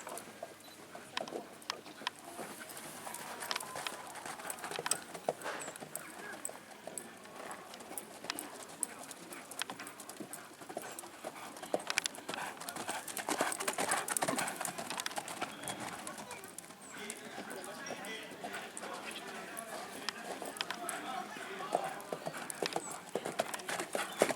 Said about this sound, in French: Alors vous voyez que c'est quand même un cheval qu'on arrive facilement à manier